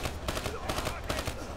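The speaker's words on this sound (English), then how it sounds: "Like, it's a pulse rifle." Rapid automatic pulse rifle fire in the Call of Duty Black Ops 3 campaign, a dense burst of repeated shots running through the whole moment at steady loudness, with faint talk mixed in.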